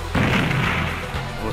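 A single heavy, booming gunshot-like blast in a Mugen fighting video game strikes suddenly, followed by a short rumbling tail and a softer thud.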